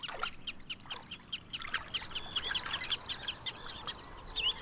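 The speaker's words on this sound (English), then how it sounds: "the ruffs squabble and the other water birds scrape a meal together" Ruffs and other water birds squabble on a Dutch wetland, a busy overlapping chorus of sharp calls and chatter, moderately near and continuous, with no talking over it.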